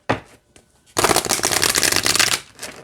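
An oracle card deck is shuffled up close: a quick riffle, a pause, then a sustained rapid flutter of cards that trails off.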